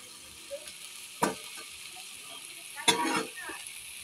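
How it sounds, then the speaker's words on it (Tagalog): Water spinach sautéed for adobong kangkong sizzles in a pan, steady frying hiss with two louder bursts as the greens are stirred and tossed, fairly close. "Adobo naman na kangkong ang lulutuin natin ngayon. Ginisa."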